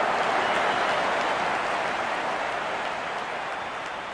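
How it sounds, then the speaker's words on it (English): A cricket crowd applauding a batsman's fifty in a dense, continuous wash of clapping that holds steady and slowly fades slightly toward the end. "Wonderful 50, and the crowd applauds."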